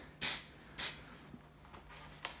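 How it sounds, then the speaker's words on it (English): A spray can hisses in two short, loud bursts while painting miniature wargame terrain, each burst about a quarter second, followed by faint handling noises. "I've never had to do spray on camera"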